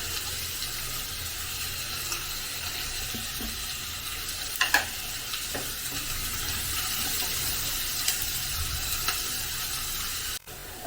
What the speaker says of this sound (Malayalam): അതിനകത്തൊക്കെ കുറച്ച് ഉപ്പും കൂടെ ഇട്ട് നമുക്കൊന്ന് വഴറ്റിയെടുക്കാം അതിനെ.